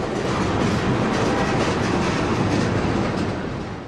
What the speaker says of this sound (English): Behind these boxcars, this freight train is pulling tank cars.